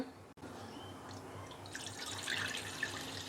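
Water drained from soaked rice pours and trickles steadily into a metal pot, a continuous splashing flow with faint dripping and metallic clinks over a low background hum.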